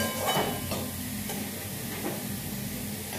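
Ginger and garlic paste sizzling in a pan with salt and turmeric, a continuous moderate frying hiss with occasional stirring scrapes, close by and fairly quiet.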